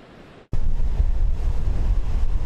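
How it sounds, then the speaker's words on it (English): Choppy waves and strong wind on the Lake Michigan shore in Wisconsin in late May, a steady loud roar of surf and wind buffeting the microphone that begins abruptly after a brief quieter moment. "Between choppy waves and near freezing wind chills at the end of May in Wisconsin. It's very, very windy out there."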